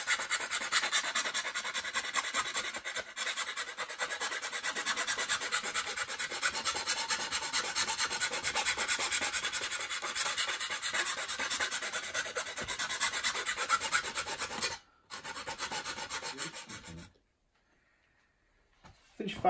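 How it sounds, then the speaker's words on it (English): A car stereo cage is rasped with an old hand file from the 1900s in fast, even back-and-forth strokes, bright and close, continuing steadily before a short pause and then stopping. "I'm going to slowly file that away while drinking a cup of tea until the cage fits in."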